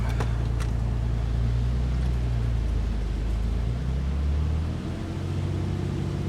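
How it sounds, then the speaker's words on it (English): Ford Mustang idling nearby, its low engine drone shifting in tone as the car is put into reverse gear, with a steady continuous hum throughout. "We're gonna put it in gear. We're gonna back up."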